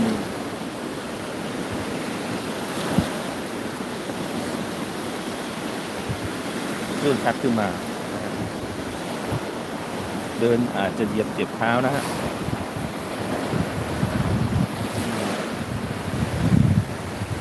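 Sea waves wash up on a beach in the morning, a steady rushing surf mixed with wind buffeting the microphone, while someone speaks over it at intervals.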